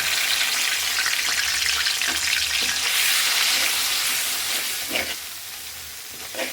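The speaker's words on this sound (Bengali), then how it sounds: "ওই তেলের ভিতরে মশলাটা কষিয়ে নিলাম।" Spices frying and sizzling in hot oil for mutton rezala, a steady loud hiss with occasional stirring scrapes, close up and continuous.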